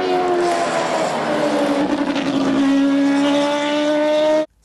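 A Mazda RX-7 rotary engine holds a loud, raspy, buzzing drone at steady revs with rising pitch, then cuts off abruptly at the end.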